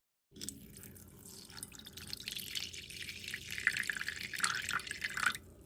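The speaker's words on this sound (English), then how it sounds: "gently swirl the board in the vinegar to rinse off any loosened debris" A DJI Mini 3 Pro drone main board is swirled and rinsed in vinegar. Gentle liquid sloshing and dripping rise gradually, then stop abruptly. It sounds close and quiet with no talk.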